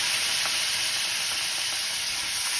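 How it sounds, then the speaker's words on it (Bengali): Spicy masala cooked down with tomatoes and a splash of hot water, sizzling steadily in a pan, a dense, unbroken frying hiss heard close by with faint stirring underneath. "সামান্য গরম জল দিয়ে আবার একটু মশলাটা নাড়াচাড়া করে নিচ্ছি"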